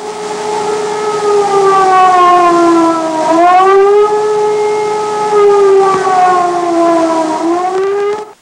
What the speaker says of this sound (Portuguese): Em toda a cidade soavam as sirenes de alarme.